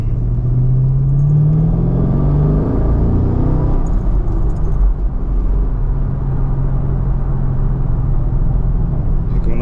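A car with a factory skip-shift feature drives through manual gear changes, its engine rumbling loud and close and its pitch rising and then dropping as it revs between shifts, with faint cabin noise underneath.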